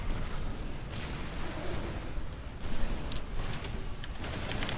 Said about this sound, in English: Nova firing off a strike there